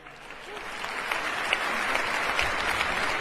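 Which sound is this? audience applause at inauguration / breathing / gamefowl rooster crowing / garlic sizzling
audience applause at inauguration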